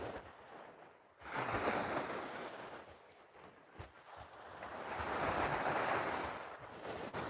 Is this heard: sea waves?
yes